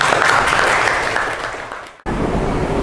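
A classroom of students gives a short round of applause, many hands clapping steadily for about two seconds before an abrupt cut, then continuing faintly.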